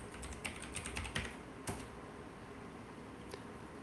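Keystrokes on a computer keyboard, a quick run of close taps followed by a couple of isolated clicks, alone with no talking.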